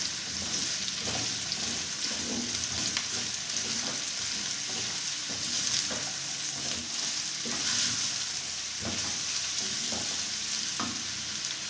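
Bell pepper frying with carrots in a pan for vegetable fried rice, a soft steady sizzle with occasional light stirring scrapes, close but fairly quiet.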